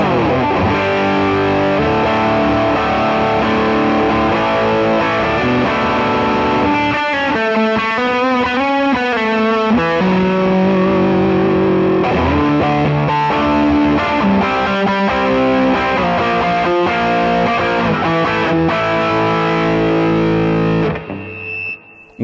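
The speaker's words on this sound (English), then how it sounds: "let's just hear what they sound like stacked." An electric guitar plays through two Browne Protein V3 overdrives stacked together, giving a thick, driven tone as strummed chords and quick riffs carry on steadily and loudly for about twenty seconds, with no voices.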